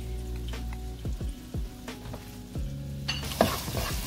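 Seafood hits a hot pan while salmon and shrimp sear for a creamy one-pan dish, giving a continuous crackling sizzle under repeated scraping stirs and a sharper hiss burst near the end.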